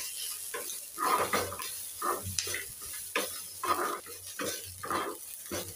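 Thin slices of dry coconut fry in a pan while being stirred, bursts of sizzling rising and falling with the scraping of a spatula at a roughly regular pace, close by with no talking.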